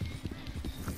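Horse hooves clip-clop in Red Dead Redemption 2, a quick rhythmic run of soft hoof beats, faint and brief.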